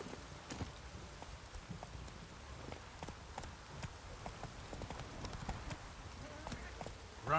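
Roach, the horse in The Witcher 3, gallops with a rapid, even clip-clop of hooves that runs steadily throughout at close range, over a soft game ambience.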